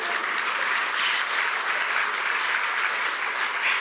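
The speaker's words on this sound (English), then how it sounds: "You can clap." Theater audience applauding at a literary event, dense continuous clapping that stays loud and even from start to finish with no voices over it.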